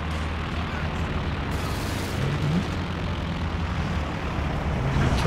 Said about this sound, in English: Kind of have to account for those anti-tank planes coming in quite late.